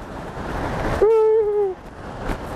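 Strong river current rushing near a waterfall in a remote western US canyon, a steady loud broadband roar of water interrupted briefly by a whistle-like tone.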